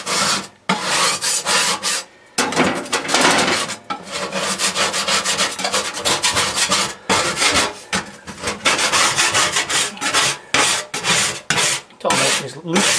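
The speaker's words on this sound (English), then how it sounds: "I want to take a putty knife here and just loosen up some of this burnt on food." A putty knife scrapes burnt-on food off the inside of an oven in loud, rough, rasping strokes that repeat continuously, broken by a few short pauses.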